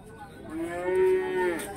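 A Pegon cow at a livestock market in Glenmore, Banyuwangi gives a single long, low moo that swells and fades, close and loud over faint crowd background.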